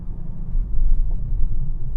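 A BMW E60 525d Pack M's diesel engine accelerating gently, heard as a steady low rumble that swells slightly midway and holds, close and continuous with no voices.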